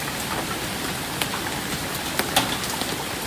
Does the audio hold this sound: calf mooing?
no